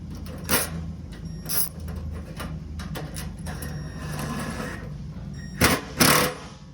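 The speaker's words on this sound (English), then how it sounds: "I'm gonna drive it cordlessly on the back side." Cordless drill driving a nut on the back side of a metal Estech FLEX cable cover, a steady mechanical whir with short sharp bursts near the start and a louder pair of revving pulls near the end.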